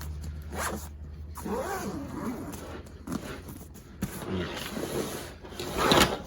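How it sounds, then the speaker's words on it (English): The zipper of a Shimoda Explore V2 35L camera backpack is pulled closed in several quick, close ratcheting strokes with short pauses between them and faint handling noise. "always zip up your bag"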